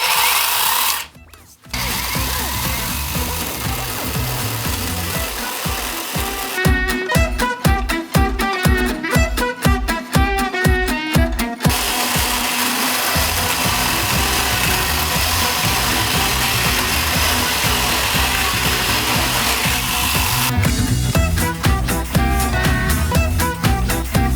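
A YamaMoto cordless battery saw runs with a loud, steady motor whine, cutting out briefly near the start and then showing repeated pulsing stretches consistent with the emergency brake stopping the blade, close to the mic.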